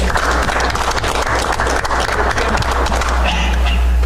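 Attendees at a municipal council meeting applaud the councillors, a short, loud burst of clapping in a room with a steady low hum beneath it.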